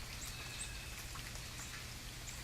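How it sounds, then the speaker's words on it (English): Steady rain falls in the video game The Forest, a soft continuous patter of drops with faint chirps, quiet and unbroken. "The rain just keeps going, but then again, I suppose it's indicative to a rainforest"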